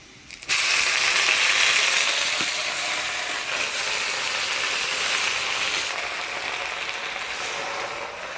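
Taro leaves drop into a pan of hot oil tempered with crushed garlic and black cumin, setting off a loud, steady hiss and sizzle that fills the clip after an abrupt start.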